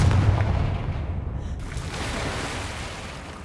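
A Confringo fire-spell blast in the Hogwarts Legacy video game lands as a loud, broad booming burst, then fades into a steady rumbling wash that lingers to the end.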